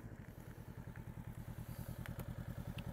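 A motorcycle engine idles nearby with a steady, rapid thumping pulse, plus a few faint clicks and ticks.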